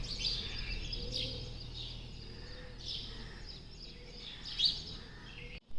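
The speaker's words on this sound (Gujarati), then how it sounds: "આજે તો કાગડી બોલે છે." A crow calls outdoors in a quiet residential lane after rain, giving several short, faint caws spaced apart against soft ambient background.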